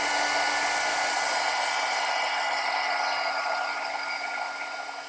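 A loud, steady whir of a hair dryer runs without a break, drying watercolor-tinted paper flowers for handmade cards, easing off slightly near the end.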